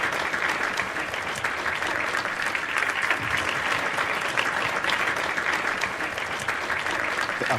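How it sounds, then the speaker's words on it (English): Sustained audience applause in the Cambridge Union chamber after President Zelensky's virtual address, a dense, even roar of clapping from a crowd that continues throughout. "The applause speaks for itself."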